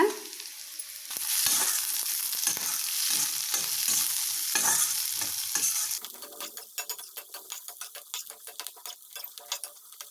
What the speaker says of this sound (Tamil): இப்போ இதில் பச்சை பட்டாணி சேர்க்குறேங்க.